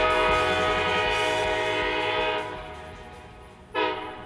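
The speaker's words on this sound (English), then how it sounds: "we can see and hear the A&M excursion train coming into town" An Arkansas and Missouri excursion train led by two vintage Alco locomotives sounds a long, loud horn as it arrives at the historic 1901 depot in Van Buren, Arkansas. The horn fades, then a short final blast follows.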